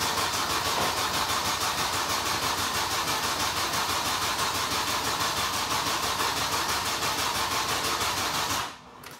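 A Opel Meriva car engine turns over and catches, then runs steadily at a loud, close, even idle before cutting out abruptly near the end.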